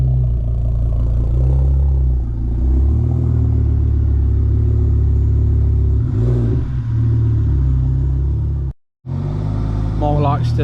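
Ford Focus ST Mk2 car rolling into a workshop, a steady close engine drone with gentle revving and shifts in pitch, a brief cut in sound near the end before the engine resumes.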